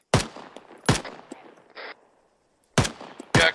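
Loud bursts of video game gunfire crack out in four separate volleys, with quieter shots and a brief electronic tone in between, no voices.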